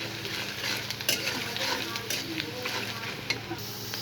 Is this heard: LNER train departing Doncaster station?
no